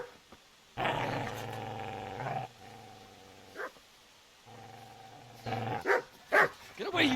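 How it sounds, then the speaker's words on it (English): Growling and barking dog from Kingdom Come: Deliverance, a loud close snarl lasting a couple of seconds, then a second long growl, followed by sharp bark-like bursts near the end. "Get away, you mutt!"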